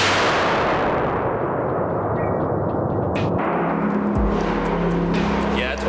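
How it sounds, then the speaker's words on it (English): .50 BMG rifle shot fired indoors, a single massive blast that starts the clip and leaves a long harsh ringing decay filling the room, followed by fainter clatter. "So I loaded that thing up and took my first 50 BMG shot indoors,"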